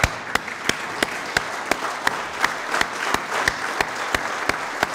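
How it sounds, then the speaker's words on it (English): An audience gives a warm standing round of applause, dense continuous clapping close by with a few louder individual claps standing out rhythmically. "can we all just rise now and to give the guys a warm round of applause"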